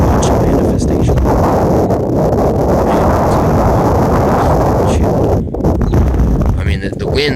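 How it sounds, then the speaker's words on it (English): Strong, gusty wind blowing outdoors, a steady loud roar and buffeting against the microphone that fills the whole stretch with only small dips in force. "The wind's been really consistent and strong today. It's been gusty."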